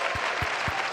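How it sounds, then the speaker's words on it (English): Audience applause for the drummers at the opening night of a conference, a steady dense wash of clapping with a few low thumps, continuous through the short moment. "give them a round of applause once again"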